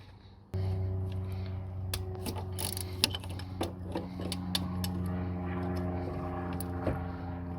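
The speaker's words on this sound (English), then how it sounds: "breaker bar with a 12 mil socket actually works pretty good" A breaker bar with a 12 mm socket works a bolt on a 2005 Mazda RX-8 engine, giving scattered metallic clicks and clanks over a steady engine-bay hum.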